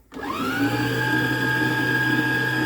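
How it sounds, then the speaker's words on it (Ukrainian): An electric mixer whisking eggs whirs up quickly to a loud, steady motor hum with a high-pitched whine, running continuously and close by. "до цих збитих яєць я додам під час збивання олія і молочок"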